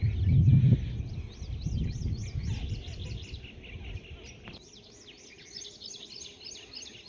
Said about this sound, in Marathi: वेगवेगळ्या विविध पक्ष्यांचे आवाज ऐका.